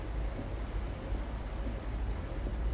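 Steady rain in American Truck Simulator, Oregon, a constant hissing patter with low rumble beneath, no voices.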